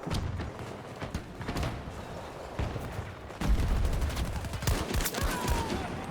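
DMR rifle gunfire in Battlefield 2042, with sharp, close shots cracking out one after another amid a dense, continuous din of other battlefield gunfire.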